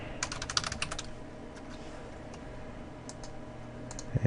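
A folder name is typed on a computer keyboard, a quick burst of soft close key clicks followed by a few scattered taps over a low background hum.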